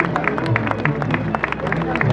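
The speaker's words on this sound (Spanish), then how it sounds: "¡Aplauso a nuestra madre!" Crowd applause and cheering at a street procession honoring the Madre Santa Ana, steady clapping and hubbub filling the whole moment with band music underneath and voices mixed in.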